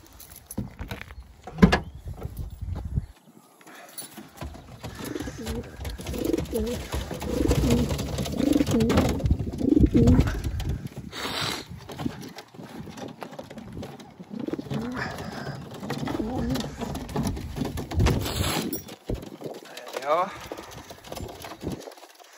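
Racing pigeons coo softly in their loft, low murmuring calls scattered through the clip alongside shuffling and rustling, while someone talks nearby.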